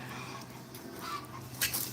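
Chickens clucking faintly from inside a locked coop, a soft, steady layer of low hens' calls with one louder squawk near the end.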